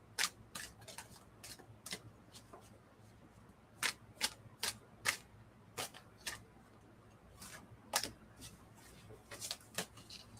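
A deck of tarot cards is shuffled by hand, giving quiet, sharp riffling snaps and taps in irregular bursts over a low background hum.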